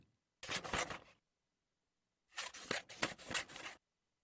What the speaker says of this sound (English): And then I recorded cutting paper with scissors.